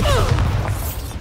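Bombarda blasting spell from the game Hogwarts Legacy, a dense booming explosion with rumbling low end and a brief rising whistle, continuous and loud over about a second.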